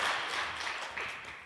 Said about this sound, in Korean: 우리 환영의 박수, 격려의 박수 올려드리도록 하겠습니다.